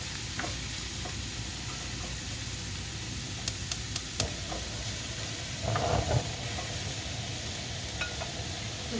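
Mushrooms sizzle in a frying pan with a steady, even hiss, and occasional light ticks and clicks from the pan or utensils come through over about nine seconds.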